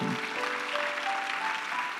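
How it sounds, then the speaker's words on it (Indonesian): A congregation at a church service applauding, a dense, steady wash of many hands clapping continuously, with a faint tonal hum underneath. "Kasih tepuk tangan buat Tuhan."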